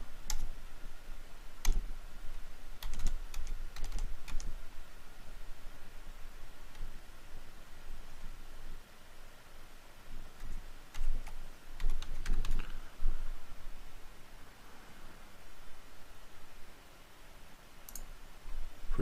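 Typing a password on a computer keyboard while logging into a Synology NAS, a run of close, crisp key clicks in irregular bursts with short pauses, over faint background hiss.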